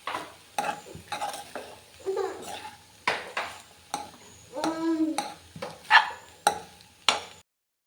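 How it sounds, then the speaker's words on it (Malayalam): A spoon scrapes and stirs potato rice made with matta rice in a pan, giving irregular clinks and scrapes with brief pauses between strokes and a faint sizzle underneath. "ഇനി ഇത് നമുക്ക് നന്നായിട്ട് മിക്സ് ചെയ്യാം"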